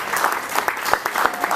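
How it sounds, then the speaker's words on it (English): At an awards banquet, a room of guests applauds student debaters who beat USC; a loud, continuous burst of clapping with individual sharp claps standing out. "So, round of applause for them."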